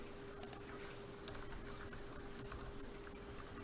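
Fast, light clicks come from a computer keyboard as C code is typed during a programming class. The scattered clusters of keystrokes are faint over a low room hum, with no talking.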